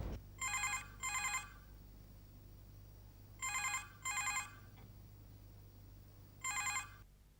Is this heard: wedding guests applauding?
no